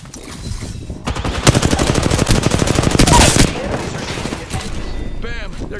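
Apex Legends gunfire, a dense, loud stream of rapid automatic shots close by for a few seconds, then easing off, with voices talking alongside.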